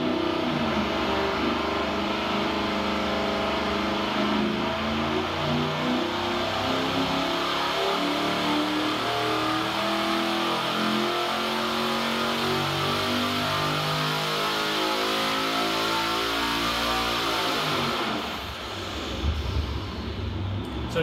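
An LS V8 fitted with remote-mount twin turbochargers and long discharge tubing is revved hard and held high for a long stretch, loud and close, then drops back toward idle near the end, with no talking.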